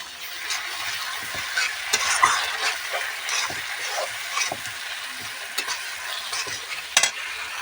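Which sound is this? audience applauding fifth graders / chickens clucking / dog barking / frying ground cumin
frying ground cumin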